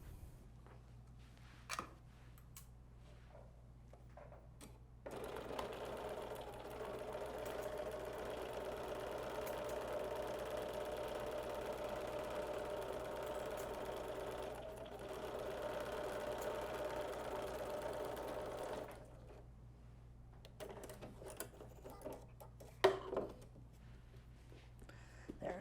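Sewing machine stitching Cuddle fabric with 100% polyester thread, a steady, close mechanical whirr running for about fourteen seconds, with quiet handling clicks and fabric rustle before and after.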